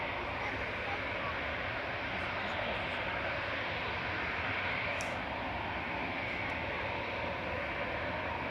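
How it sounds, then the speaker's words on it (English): An Airbus A319 airliner landing at Manchester Airport gives a steady, broad jet roar that holds loud and even throughout, with a voice talking faintly underneath. "Airbus A319 just landed."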